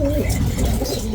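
A homing pigeon of Borga breeding coos in a low, steady, throaty rumble that runs nearly continuously and close by, with no talking over it.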